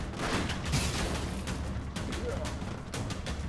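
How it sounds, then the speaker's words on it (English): Gunfire and explosions from the action game Broforce on hard mode: rapid, repeated shots and booming bursts crowd together at a moderate level, with a voice talking over them. "These enemies don't stop shooting."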